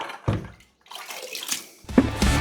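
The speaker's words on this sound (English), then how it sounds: "I'm going to add a little bit more water to that." Water poured into a plaster mix for smoothing sheetrock, heard as short splashing and trickling bursts separated by brief pauses, close by.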